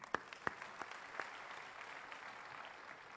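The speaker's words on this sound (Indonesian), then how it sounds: "Beri tepuk tangan ya Maria Putri." A church congregation at a sermon breaks into applause, opening with a few sharp, distinct claps before settling into a soft, steady patter heard from some distance.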